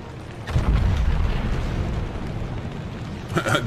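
Naval gunfire and shell explosions from the World of Warships video game, a sustained booming rumble that swells loudly after a moment, holds steady, then flares again near the end.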